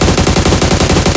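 Sustained automatic gunfire from a player's weapon in the mobile battle royale game PUBG Mobile, a loud, rapid, steady burst of evenly spaced shots filling the whole moment with no voices.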